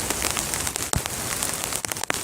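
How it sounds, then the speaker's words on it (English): Steady April rain patters on a tarp shelter at a bushcraft campsite, a dense close hiss of drops that runs through the whole stretch with no voices. "we've got a little bit of rain, April showers coming down on us"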